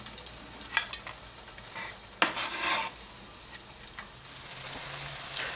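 Tofu pieces frying in a pan for home-style tofu, giving a quiet, steady sizzle broken by a few sharper scraping and stirring bursts near the start.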